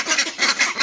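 Ducks quack steadily while being fed, several birds calling close by in quick overlapping bursts with no talk.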